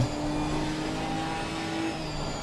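Race cars running on a wet track in the Assetto Corsa Competizione sim racing game, with engines droning and revving steadily alongside a thin whine and wet road hiss, no voices.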